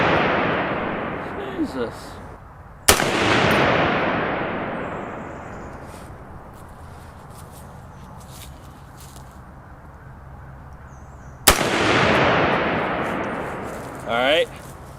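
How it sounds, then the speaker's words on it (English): .30 caliber rifle shots, some fired bare and some through a WhisperStrike M80 suppressor: two sharp, loud reports spaced several seconds apart, each with a long rolling echo decay outdoors, and a brief exclamation from a man in between. "So I'm gonna do 3 shots off, 3 shots on."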